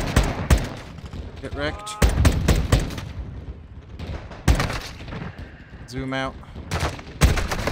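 Gunfire in Call of Duty Modern Warfare 2 campaign combat: loud, sharp bursts of shots and booming impacts recurring irregularly, with players talking over the action between volleys.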